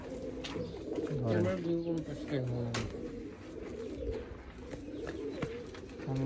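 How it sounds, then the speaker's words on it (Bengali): A flyer Teddy pigeon in a loft coos in repeated low, throaty phrases nearby, while people talk over the calls. "এই যে একটা কবুতর দেখতে পাচ্ছেন, এটা ফ্লায়ার টেডি"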